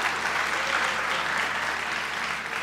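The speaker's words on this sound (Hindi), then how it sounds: "जोर से बोलो तो ताली ज्यादा बजती है" Studio audience applauding loudly and continuously at a Pakistani comedy talk show, a dense steady clatter of many hands filling the whole stretch with no break.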